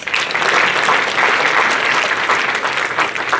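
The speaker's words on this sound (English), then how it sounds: "Another round of applause for Team 6." A crowd applauds steadily for a team at a presentation and awards event, dense clapping sustained at full volume throughout with no pauses.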